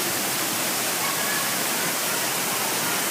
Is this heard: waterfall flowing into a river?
yes